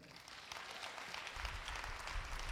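Congregation applauding in church during a pastor's conference, a soft, steady wash of many hands clapping at a distance, fairly quiet and unbroken throughout.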